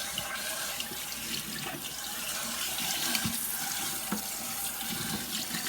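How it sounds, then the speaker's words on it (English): Tap water runs steadily into a sink while a rubber RC car tire is rinsed, a continuous close splashing rush with small shifts as the tire moves under the stream. "And then I just take my rubber here, my rubber tire, and just kind of rinse it out."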